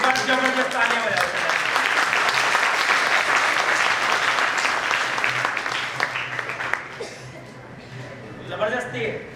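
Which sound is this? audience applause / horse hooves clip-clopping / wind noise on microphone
audience applause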